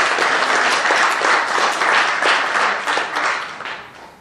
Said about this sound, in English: I think that deserves a massive round of applause from everyone